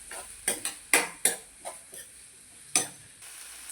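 Cabbage and onion tossed with salt in a pan, a spatula clacking and scraping against the metal in a handful of sharp, irregular knocks with quiet gaps between.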